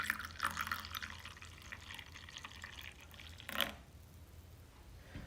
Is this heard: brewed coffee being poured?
yes